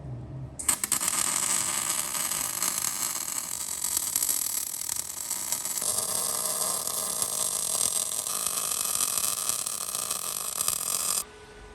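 Steady, close electric arc welding hisses and crackles continuously for about eleven seconds as steel gussets are welded onto a homemade towbar, then cuts off abruptly, with no talking.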